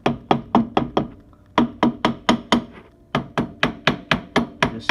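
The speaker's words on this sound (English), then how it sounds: "This is a brass hammer," A brass hammer taps repeatedly on a brake part of a 1999 Honda Recon 250 ATV, with sharp, close metallic knocks in quick bursts of four to six strikes separated by short pauses.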